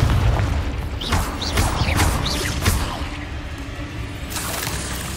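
Confringo explosive spell blasts in Hogwarts Legacy crack out as a string of booming bursts with whooshing tails, loud and close, layered over dense battle noise with no talk.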